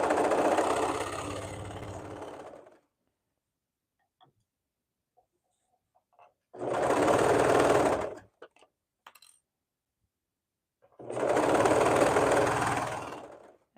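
A sewing machine stitches a swimsuit waistband seam in three close, steady bursts of rapid whirring, each a couple of seconds long, separated by quiet pauses.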